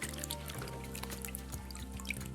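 Water from a bowl splashing and dripping onto a handmade cement garden figure shaped like a pumpkin, soft close trickles and scattered drips at low volume.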